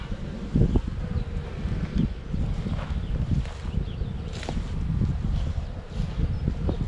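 Honeybees from a tree trunk colony buzz steadily around a beekeeper as frames are inspected, a dense, close drone of many wings with occasional louder passes and faint handling knocks.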